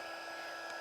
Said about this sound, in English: So now you get your heat gun, and you get your heat gun nice and hot.